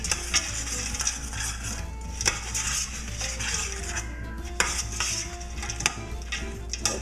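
Onions sweating gently in a pan with steady sizzle under repeated spoon stirring and occasional clinks of utensil on metal, close and continuous.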